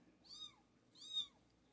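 Two high, rising-and-falling kitten meows from a young cat in a shed, spaced about half a second apart, fairly close and alone over a faint background hum.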